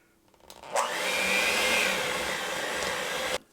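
An electric hand mixer with spinners whirs steadily through cream cheese peppermint dough with powdered sugar and sprinkles. It starts up sharply, holds a loud, even motor drone for about two and a half seconds, then cuts off abruptly.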